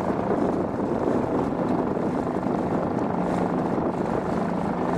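A 2.5 hp Suzuki outboard motor pushes a small 12-foot Jon boat across shallow water, a steady close drone mixed with water rush and wind buffeting the microphone, with no talking.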